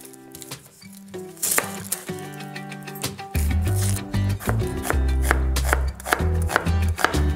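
A knife slicing onions into thin strips on a cutting board, loud and close: rapid crisp chops in quick runs, with a short pause before a denser, heavier stretch of cutting.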